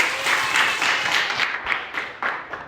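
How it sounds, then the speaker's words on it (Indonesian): A classroom of students claps in brief, scattered applause that fades quickly. "Ya, bagus, tepuk tangan."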